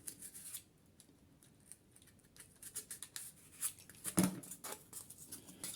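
A dull blade cuts through craft material for a small tile, giving faint, close, uneven rasping and scraping strokes that grow a little sharper toward the end.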